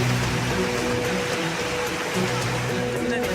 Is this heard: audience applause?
no